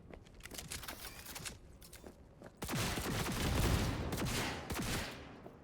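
Rapid gunfire from a tech rifle in the video game Cyberpunk 2077, dense overlapping shots in quick bursts with a heavier barrage in the second half, alongside explosive game effects and no talking.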